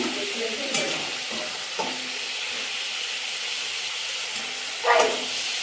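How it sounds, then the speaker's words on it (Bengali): Chital fish frying in oil in a village kitchen, a steady sizzling hiss with occasional stirring scrapes and a louder spitting burst near the end. "তো মাছ ভাজা আমাদের কমপ্লিট করে নিচ্ছে।"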